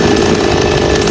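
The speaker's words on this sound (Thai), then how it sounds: "นี่นะคะฝาลานกดปุ่มสตาร์ทของเลื่อยยนต์นะคะ" A chainsaw fitted with a push-button starter runs loud and close, its engine buzzing steadily with a rough, constant drone and no voices.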